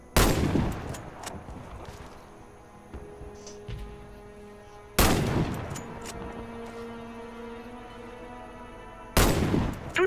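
Sniper rifle shots at targets in Warface on Xbox Series X: three loud, sharp cracks spaced several seconds apart, each trailing off in a long ringing echo.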